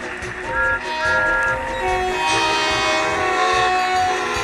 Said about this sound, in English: The Flying Scotsman pulled into the platform right in front of Gordon